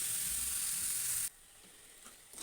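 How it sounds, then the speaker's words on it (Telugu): Gongura flower mixture stirred in a hot pan, with a steady loud sizzle that cuts off abruptly partway through, leaving quiet clinks and scrapes before the frying swells again. "ఇలా తిప్పుతూ మంచిగా కలపాలండి"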